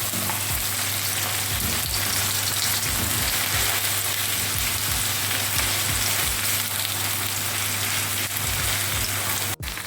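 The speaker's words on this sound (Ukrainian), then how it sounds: "І починаємо ось так смажити нашу цибульку." Onions sizzle and crackle steadily in a hot pan, a dense hiss with scattered pops and occasional scraping stirs, no voices.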